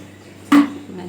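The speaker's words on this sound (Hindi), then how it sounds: "मेरी एक बोतल तो गिर गई" A bottle tipping over lands with one short, hollow clunk against a low background hum, with a voice nearby.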